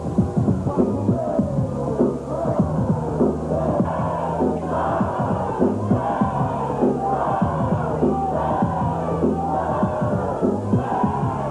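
A packed wrestling arena crowd roars and cheers without letup as PG-13 and Midget D make their way to the ring at a 1993 USWA show. The noise is loud and dense, swelling in repeated waves.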